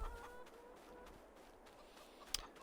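Chickens cluck faintly in a farmyard in Farming Simulator 22, a soft and scattered background of bird calls with one brief sharper sound near the end.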